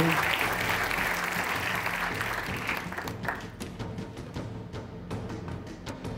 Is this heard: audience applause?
yes